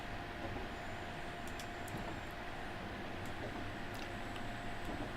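A train runs in the JR East Train Simulator game on the Keihin-Tohoku and Negishi Line, a low steady rumble with a faint continuous hum and a few brief high clicks and squeals, played quietly without talk.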